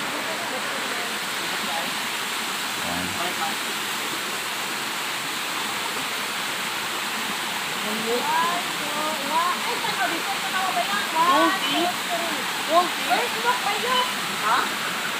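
Steady broadband rush of water flowing high after rain, like a strong stream or falls, continuous throughout with faint voices and chatter rising in the second half.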